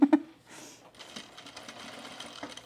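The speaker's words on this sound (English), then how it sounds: "So now we're going to stitch in the ditch to form our welt here with my size 16 needle." Sewing machine stitching in the ditch with a size 16 needle and heavy thread on men's cargo shorts, short soft bursts of whirring after a couple of sharp clicks, close and fairly quiet.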